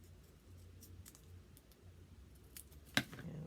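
Scissors cut paper for a junk mail birdhouse collage in an art studio, with quiet soft snipping that ends in one sharp, louder snip near the close.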